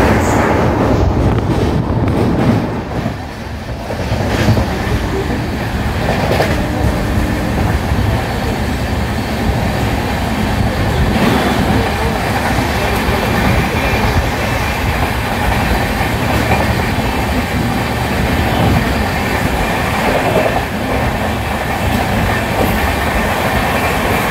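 A train rolls along the Howrah to Ranchi line in India, with continuous loud rumbling, rhythmic clickety-clack of wheels over rail joints, and wind buffeting the microphone throughout.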